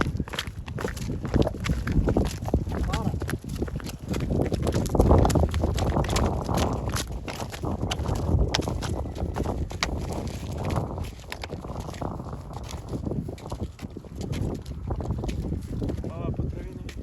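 Heavy Ardennes and PKZ draft horses walking on a road, hooves clip-clopping in a steady, uneven rhythm close by, with wind noise and a person talking over the steps.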